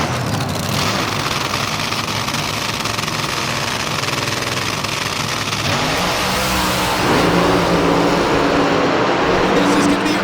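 Top Fuel dragster engine at a US 131 Motorsports Park Northern Nationals run, a loud sustained roar that builds and surges louder partway through, with crowd noise and commentary voices mixed underneath.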